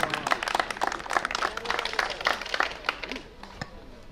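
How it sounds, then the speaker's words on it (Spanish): A room of guests at a birthday party applauds a speaker with dense, lively clapping that stays strong, then thins and fades in the final second. "Lo recibimos con los aplausos respectivos."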